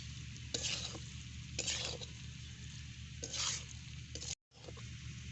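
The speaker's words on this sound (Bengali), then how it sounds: "আর দেব এক চামচ ঘি এবারে একটু নাড়াচাড়া করে সব কিছু ভালো করে মিশিয়ে নেব" Cabbage for a vegetarian Kashmiri bandhakopir ghonta, with potatoes, ghee and sugar, is stirred in a pan: a soft bed of sizzling punctuated by three or four louder scraping sweeps of the spatula.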